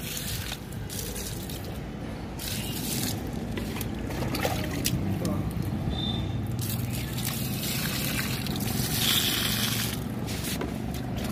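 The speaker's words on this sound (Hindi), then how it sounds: "मैं पौधे में पानी डाल रहा हूँ।" Water being poured onto potted plants at home, a steady close splashing and trickling that runs continuously throughout with no talk.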